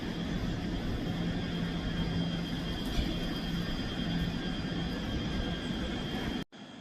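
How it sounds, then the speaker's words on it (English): A ScotRail Class 385 unit pulls out of Edinburgh Haymarket station on the Edinburgh Waverley to Glasgow Central service, a steady, loud, close rumble and whine that runs on evenly before cutting off abruptly. "Departing out now is the 1204 Scotrail service from Edinburgh Waverley to Glasgow Central"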